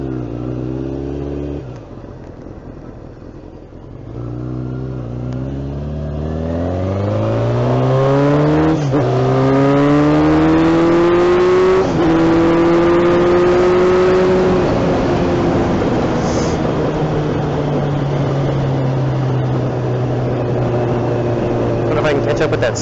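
A scooter engine revs and climbs through rising gears while riding, loud and close, the pitch sweeping upward then settling into a steady drone with wind noise.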